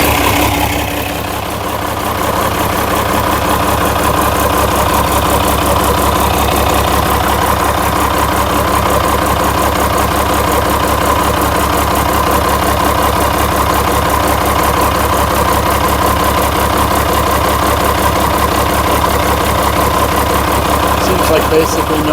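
A DT360 diesel engine swapped into a Ford dentside crew cab idles steadily and close by, a continuous low, even rumble with a faint knocking texture that holds throughout.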